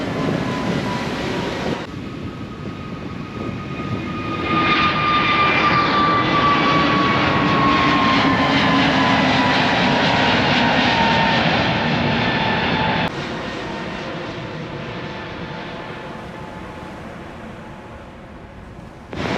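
Fixed-wing aircraft rolling for takeoff on runway 09 at Gibraltar Airport, a loud sustained engine roar that swells as it accelerates, with a rising whine, then eases and fades into wind noise as it climbs away.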